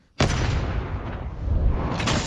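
A single loud gunshot from a backup pistol in a crime film's robbery scene bursts in sharply and leaves a long rumbling, reverberant tail.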